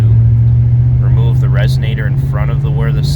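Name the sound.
Chevy Silverado/GMC Sierra exhaust with Glasspack muffler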